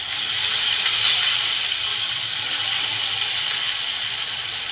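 Potato pieces dropped into hot oil tempering with tomato in a pan for a Maharashtrian Bhogi mixed-vegetable dish, giving a steady, close, continuous sizzle and hiss throughout with no talk.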